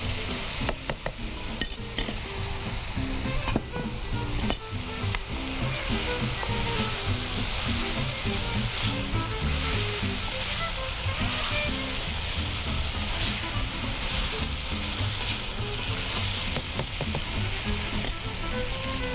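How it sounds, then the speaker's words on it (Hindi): Tomato puree from five or six tomatoes hits a hot frying pan for chicken macaroni sauce, setting off a loud, dense, sustained sizzle with stirring scrapes and a few utensil clinks near the start, close and without talk. "ये मेरे पास 5-6 टमाटरों की प्यूरी है जो कि मैं इसमें शामिल कर रही हूँ।"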